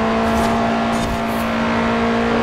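Racing car engine in Forza Horizon 4, droning steadily at a high constant pitch while overtaking, loud and close throughout, with no voices over it.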